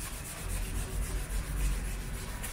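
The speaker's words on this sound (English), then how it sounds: "by sanding it like this you will push it into like some pores" Steady, even rubbing of sandpaper over oiled wood on a guitar build, close and continuous, working oil residue into the grain with no voices.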